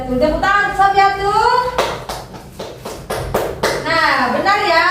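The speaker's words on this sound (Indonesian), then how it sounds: "Tepuk tangan Sofiatu" A classroom of children claps hands together in a short burst of applause, several seconds of loud, crisp claps between stretches of a teacher talking.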